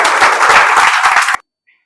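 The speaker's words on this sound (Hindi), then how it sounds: "एक बार इनके लिए जोरदार ताली तो होना चाहिए।" Loud, dense applause from an audience at an event honouring a student's mother, a steady burst of clapping that stops abruptly, followed by a brief faint sound.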